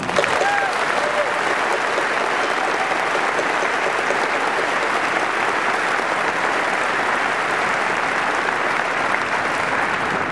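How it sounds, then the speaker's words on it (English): A large graduation crowd at a university ceremony applauds loudly and without a break for over ten seconds, a thick, sustained roar of clapping with faint cheers mixed in. "you did it, and you deserve a round of applause."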